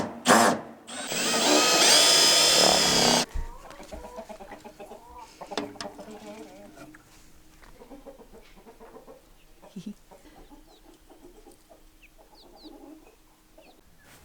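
Homestead chickens cluck and murmur in scattered, uneven calls at close range, following a loud burst of mechanical whirring at the start, with occasional rustling around them.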